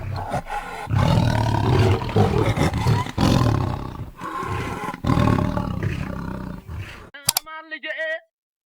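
A big cat's roar, a leopard, comes in long rough bursts over several seconds, loud and close, then gives way to a short tonal chime at the end.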